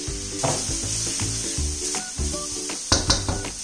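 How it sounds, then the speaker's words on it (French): Spices, onion, garlic and ginger fry in hot oil in a wok, a steady hiss with knocks and scrapes from stirring, plus a few sharper clatters near the end. "Dans un wok, mettre un peu d'huile, verser les épices et faire chauffer. Ajoutez l'oignon, l'ail et le gingembre."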